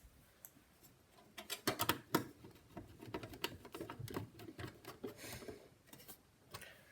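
Small metal screws being driven into the side of a Windows 98-era PC case, heard as a close, irregular run of light ticks and clicks with a few sharper clacks, with no one speaking.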